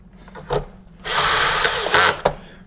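Power drill with torque turned down driving big screws into a plastic vacuum power nozzle, a close whirring burst of about a second, framed by short clicks and a quick final spurt.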